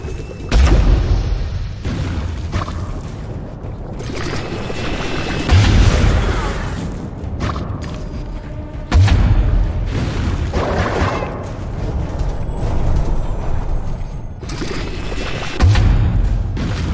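Repeated deep booming blasts from a steam-powered teapot cannon lobbing tea grenades in the game Alice: Madness Returns, about four heavy thumps spaced several seconds apart over a steady, busy game soundscape.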